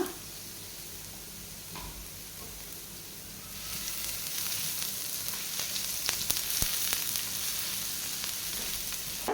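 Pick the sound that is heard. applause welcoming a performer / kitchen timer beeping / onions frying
onions frying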